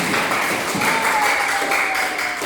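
A ninth-grade school class claps in the classroom, a continuous patter of many hands that lasts a couple of seconds.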